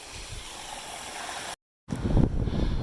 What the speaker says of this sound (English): Very nice water right outside of Cosby Knob.